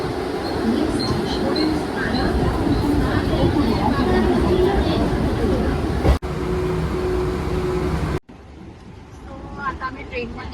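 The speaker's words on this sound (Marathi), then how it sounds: "आता आम्ही ट्रेनमध्ये आहोत" Inside a moving Mumbai local train during the Ganesh Chaturthi festival, a dense rumbling roar of wheels and carriage fills the space, with chatter and voices over it; the noise cuts sharply near the end.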